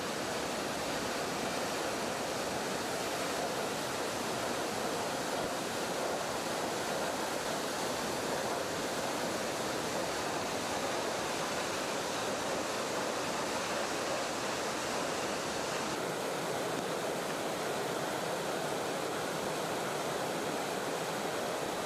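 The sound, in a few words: Middleham Falls waterfall, water spilling 60 meters down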